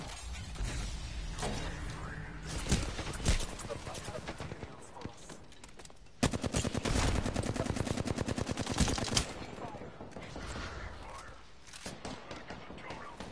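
Video game gunfire crackles in rapid automatic bursts throughout, loudest in a dense sustained volley midway, with players talking excitedly over the shooting.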